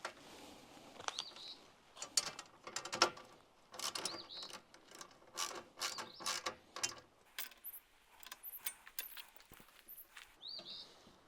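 Bolts with lock washers being tightened on an RV roof solar panel rack, heard as a run of close, sharp metallic ratcheting clicks in irregular bursts, with brief pauses and a few small knocks of parts being handled.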